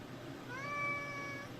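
A single short cat meow in a home, faint and slightly distant, rising and falling over a quiet room background.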